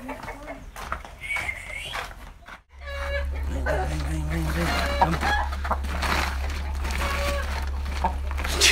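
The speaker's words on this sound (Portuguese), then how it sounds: "Vamos lá soltar as galinhas." Chickens clucking as they are let out of a coop, scattered clucks over a steady low hum, with people talking throughout.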